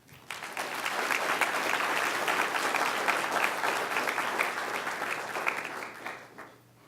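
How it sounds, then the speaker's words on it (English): Applause from the audience at a school board of education meeting honoring student members: a full, even round of clapping that swells quickly, holds for several seconds and fades out. "So just want to give a round of applause to these members."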